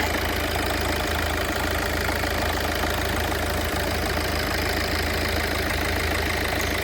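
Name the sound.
car diesel engine idling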